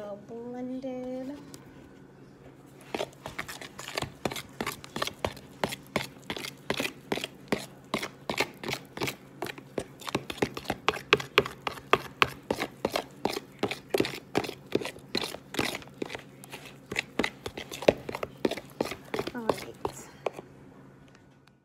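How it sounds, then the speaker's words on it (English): Brown sugar and sunflower oil are stirred into a vegan banana bread muffin batter, giving a steady run of close, rhythmic scraping and tapping strokes in a bowl, with a short voice at the start. "Now we're gonna mix. We're gonna mix it. Make sure we get it very well blended."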